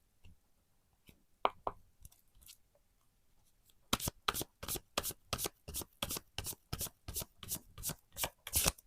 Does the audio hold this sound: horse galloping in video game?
no